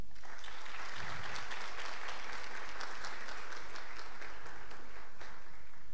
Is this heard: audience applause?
yes